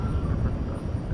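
A night departure of an airliner at DFW Airport comes through as a steady, dull low roar with wind rumble, heard only briefly and with no voices.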